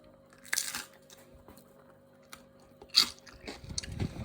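Someone bites into a homemade oven-baked crispy rice cracker snack, giving a few sharp, close crunches separated by quiet pauses, then a burst of chewing, with no voices.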